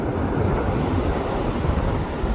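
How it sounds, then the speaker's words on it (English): Rough, choppy water churns and splashes in a steady, loud wash, with wind buffeting the microphone throughout and no voices. "It's pretty fierce. The water's pretty fierce today."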